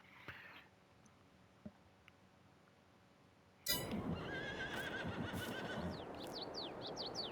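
Horses in Farming Simulator 22, quiet ambience with a few faint clicks, then a sudden loud whinny and a burst of neighing with hoof clatter and chirpy bird calls continuing to the end.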